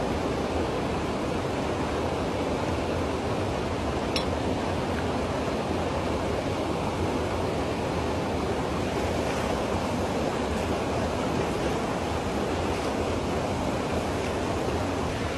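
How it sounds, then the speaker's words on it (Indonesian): A small river flows near a hidden waterfall on the Aceh–North Sumatra border, giving a constant, even rush of water without a break and no voices. "nah itu ada kayak sungai kecil gitu, kawan-kawan"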